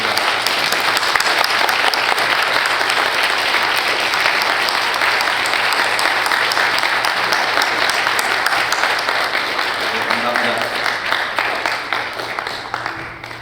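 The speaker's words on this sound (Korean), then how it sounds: "우리 함께 하시고 박수 한번 부탁드리겠습니다" A standing congregation applauds veterans at a Korean War memorial service, a loud, even burst of many hands clapping that carries on for several seconds before slowly thinning out.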